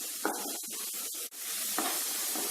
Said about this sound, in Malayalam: ഈ ഇഞ്ചി വെളുത്തുള്ളി പേസ്റ്റിന്റെ പച്ചമണം മാറുന്നത് വരെ നന്നായിട്ടൊന്ന് വഴറ്റി കൊടുക്കണം